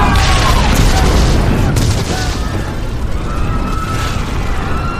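Loud explosion sound effect in an audio drama, a booming blast with rumbling debris that fades over several seconds, with a voice in the mix.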